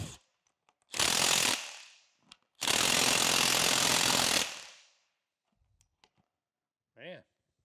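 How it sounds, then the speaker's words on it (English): An impact gun loosens bolts on a Chattanooga Plow Company No. 11 cane mill in two loud, close bursts of rapid hammering, the second one longer, with quiet handling noises and a brief voice between them. "I'm going to cheat here and use my impact gun."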